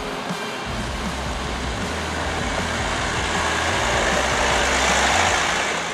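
A 2019 Jeep Wrangler Rubicon engine pulling off-road in 4L low range, a steady low droning rumble that swells slightly toward the end, with no talking.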